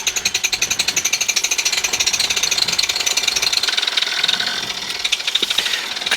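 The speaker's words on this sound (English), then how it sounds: "see if the engine will start" A propeller aircraft engine starts up and runs with a loud, rapid rhythmic chugging and rattling, steady and close, without talk.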